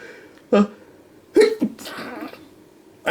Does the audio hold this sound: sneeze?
yes